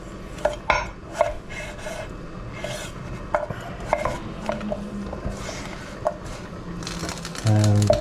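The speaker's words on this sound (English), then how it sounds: "I'm just going to slice the potatoes." Knife slicing potatoes on a cutting board for chorizo and cabbage soup, a run of sharp, close taps and scrapes at an irregular rhythm, with a clatter of kitchenware near the end.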